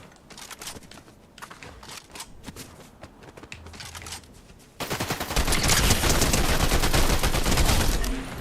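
Bursts of video game gunfire crackle in a shooter match with shields and shockwave grenades, starting sparse and quieter, then erupting into a loud, dense, sustained volley of rapid shots in the second half.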